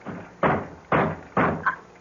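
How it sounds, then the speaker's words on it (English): A front door in a 1974 radio mystery drama is knocked on as a sound effect: three loud, evenly spaced thuds about half a second apart, then a lighter rap, close and with no voices. "It sounds like someone at the door."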